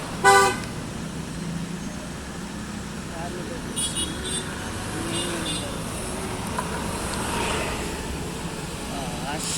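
Cars pass along a road with steady traffic noise throughout and a brief horn toot near the start, with someone talking over the passing vehicles.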